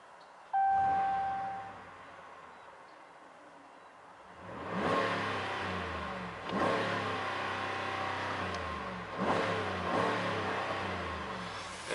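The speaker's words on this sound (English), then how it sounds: "You wanna hear exhaust sound this time." A 2020 Dodge RAM 1500 pickup's exhaust revs up several times in a row, limited to 4000 RPM, each rise swelling loudly then settling back to a throaty idle, close by with no talking.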